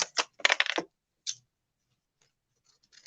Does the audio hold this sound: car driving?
no